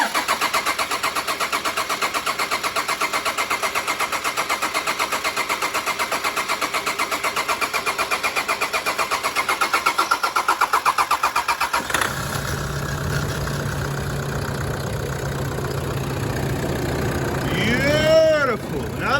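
A Toyota 1KD-FTV diesel engine cranks with a rapid, steady chugging for several seconds, then catches and settles into a smooth idle. A few high whines rise near the end.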